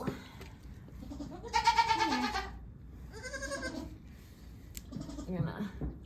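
A newborn buckskin Mini Nubian goat kid gives two or three thin, wavering bleats close by, amid quiet rustling, with a person talking softly between the calls.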